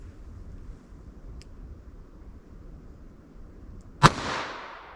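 A single sharp gunshot from a Ruger SP101 revolver with a 4.2 inch barrel, firing a light-charged .32 H&R Magnum wadcutter, loud and close with a short ringing decay after a quiet outdoor stretch.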